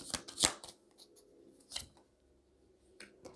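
Tarot cards are shuffled and drawn, a few quick riffling bursts and crisp slaps of cards, close and fairly soft, separated by quiet pauses.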